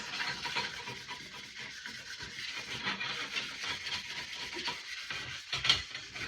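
Surface rust being scrubbed off metal awning poles, a steady close rubbing and rasping with an uneven back-and-forth texture, fairly quiet and continuous, with a brief louder scrape near the end.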